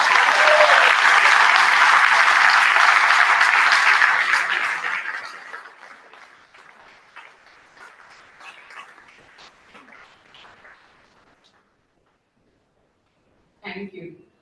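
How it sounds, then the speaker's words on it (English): Award ceremony audience breaks into loud, dense applause for a Nobel Prize nominee, which fades away after about five seconds into scattered claps and near silence, followed by a brief voice at the end. "Can we have a huge round of applause?"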